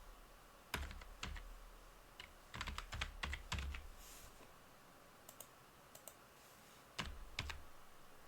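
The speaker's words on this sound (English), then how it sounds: "Let me type the word settings below." A computer keyboard is tapped in short bursts of quick keystrokes separated by pauses, crisp close clicks over a quiet room background.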